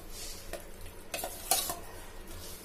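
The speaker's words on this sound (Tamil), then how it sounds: "இப்போ நம்ம வந்து தயிர் சாதத்துலேருந்து ஊற்றி நல்லா மிக்ஸ் பண்ணிக்கலாம்" Curd rice being stirred into a ginger and asafoetida tempering in a pan, soft sizzle under scraping spoon strokes with a few louder clatters, close and fairly quiet.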